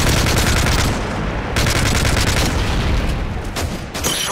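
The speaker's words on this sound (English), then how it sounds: "Enemy strafe run incoming." Enemy strafe run in Call of Duty, Arkaden map: dense, loud bursts of rapid machine-gun fire and impacts rattling continuously, with brief gaps between volleys and no talk.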